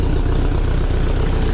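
Idling engine of a 1961 VW Beetle, a steady, loud, close rumble with an even low chugging pulse throughout and no voices.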